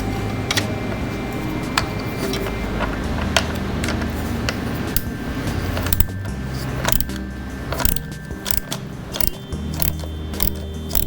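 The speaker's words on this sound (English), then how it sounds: "right here is the hold down bolt. Okay. I'm using a 13mm socket." A 13mm socket wrench loosens the battery hold-down bolt on a 1995 LT1 Corvette, a quick series of sharp ratcheting clicks and ticks at an uneven rhythm, close up over a low background hum.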